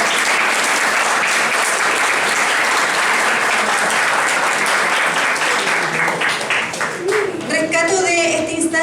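Audience applause at a panel talk on artificial intelligence during a school event, dense and loud for most of the stretch, thinning as a voice begins speaking near the end.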